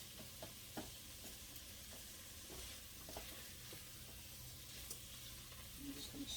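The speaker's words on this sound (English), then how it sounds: "I'm just going to stir this around, and you can see the fat starting to render out of the ham." Diced ham frying in a pot for red beans and rice, its fat rendering into a faint, even sizzle broken by soft, irregular scrapes and taps of stirring, with no voices.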